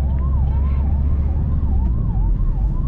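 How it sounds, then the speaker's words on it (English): An ambulance siren wails in a steady repeating up-and-down sweep, loud and close over heavy low road and engine rumble from a moving car in traffic near Bangalore. "Ambulance is coming."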